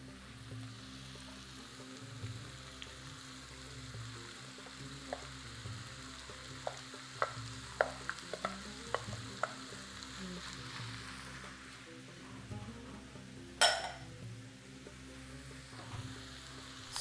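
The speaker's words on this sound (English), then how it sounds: "Allow the turkey to cook for 7 minutes, then add the pepper." Turkey pieces and peppers sizzle steadily in a pan, a soft continuous frying hiss with scattered clicks of a utensil stirring, then one sharp scrape or clatter near the end, heard close with no talking.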